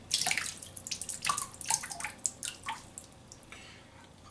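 Water drips and splashes as a wet shaving brush is wrung out over a sink, making a close, irregular series of small splatters and drops with no talking.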